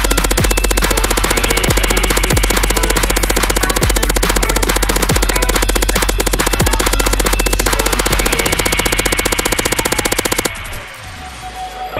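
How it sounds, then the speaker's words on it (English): Sustained automatic gunfire in the Fortnite video game, a loud, rapid, even stream of shots that runs for about ten seconds before cutting off abruptly. "we should totally shoot the bottom of their base out"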